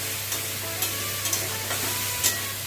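Marinated chicken fries in a kadai over a low to medium flame, a dense, even sizzle close by, with occasional light scrapes and pops.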